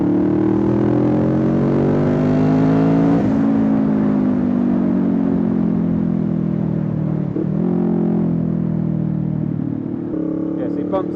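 A 2019 Kawasaki Ninja 650 motorcycle engine drones loud and close while riding, its pitch climbing through the gears with brief dips at the shifts, under steady road and wind rumble.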